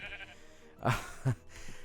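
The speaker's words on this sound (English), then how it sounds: "all these annoying sheep that are around here" Sheep bleating in the video game Minecraft: two short, fairly loud bleats about a third of a second apart, over quiet ambient game sound.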